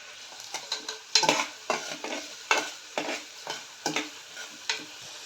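Whole spices, mustard seeds, fennel, onions, green chillies and curry leaves fry in oil, with a steady sizzle broken by about eight loud stirring and scraping strokes of a utensil in a pan, close by, with no voices.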